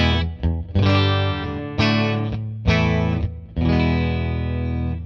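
Electric guitar played through a buffered fuzz pedal, loud saturated sustained chords struck four times in succession, each ringing thick and distorted before the next hit.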